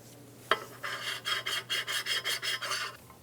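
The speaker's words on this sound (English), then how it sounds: "Clean the mating surface on the upper intake and then hit it with a bit of parts cleaner and a clean" A rag rubs back and forth across the upper intake mating surface of a 2003–2007 Infiniti G35, about a dozen quick rhythmic swipes after a sharp knock, close and clear with no talking.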